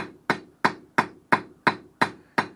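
Eight quick, light hammer taps ring out evenly on 3/8 round steel stock while a wall hook is forged, each sharp metallic strike decaying fast, close and clear with no talking.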